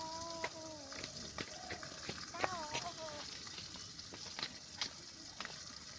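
Pangas fish frying in oil, a steady, continuous sizzle with faint crackles throughout, while voices and a high, animal-like cry sound faintly over the top.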